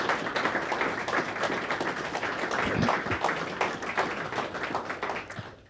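An audience at a World Championship Final ceremony in Great Wyrley, England, gives steady, moderately distant applause, a dense patter of many hands that holds for several seconds and then tapers slightly at the end.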